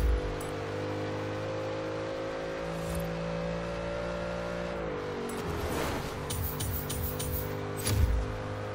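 A Crown Victoria police cruiser in the racing game Forza Horizon 3 holds a steady engine drone, drops in pitch midway, then revs and whirs unevenly, with a louder surge near the end.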